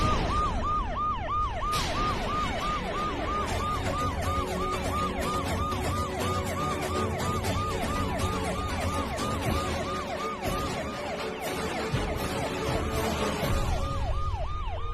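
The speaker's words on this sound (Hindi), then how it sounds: "सायरन की आवाज आ रही है। पुलिस किसने बुलाई?" A wailing police siren rises and falls in rapid repeating cycles, loud and continuous, with road traffic rumbling underneath.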